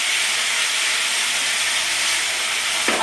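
Water splashed into frying masala for a Bengali omelette curry, a loud, steady, close steam hiss that holds for about three seconds, with a faint scrape near the end.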